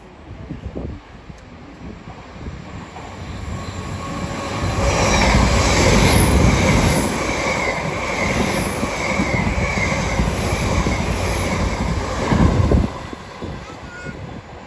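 A Zoomer train passing through a station in Train Sim World 4 on the Fife Circle route in Scotland, a loud rushing rumble with squealing wheels and rhythmic clatter that builds, holds, then drops away.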